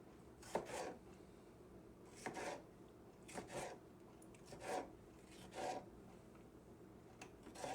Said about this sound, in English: I always cut that part off. It's a real juicy tomato